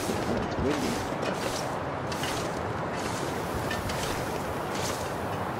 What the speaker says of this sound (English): That's pretty windy, which is not ideal.